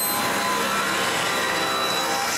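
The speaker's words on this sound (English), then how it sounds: "Then I cut more grooves for the back plywood." A power saw cutting grooves into back plywood for a bandsaw base whines loud and continuous right up close, a dense steady roar with no pause and no voices.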